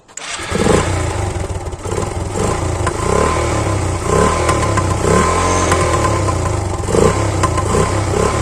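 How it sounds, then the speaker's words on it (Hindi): A motorcycle with a modified silencer starts up close by and runs loud, with a throaty, rumbling idle and occasional revs, its exhaust harsh and rattly. "साइलेंसर बदलवाने के बाद या बाइक में छेड़छाड़ करने के बाद कैसी आवाज़ करती है बाइक"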